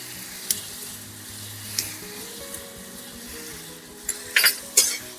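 Ground cumin and coriander spices frying with ridge gourd in a pan, a quiet steady sizzle under sharp metal spatula scrapes and clinks against the pan, growing louder toward the end, with no talk.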